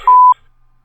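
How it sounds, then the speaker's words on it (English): A single loud, pure censor beep lasting about a quarter second covers a word during a casual film-review chat, followed by near silence. "Beep that out."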